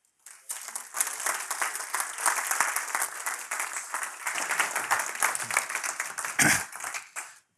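An audience at the State of the West 2018 symposium applauds to welcome Nevada Governor Brian Sandoval, with sustained clapping that rises quickly, holds steady for several seconds, then fades out.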